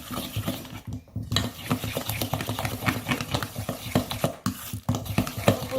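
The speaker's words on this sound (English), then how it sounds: "I need the fork to do it, so I'll be able to be faster to mix it together" Egg being beaten with a fork in a bowl for squash pancake batter, a rapid, steady run of clicking and tapping strokes close by with brief pauses.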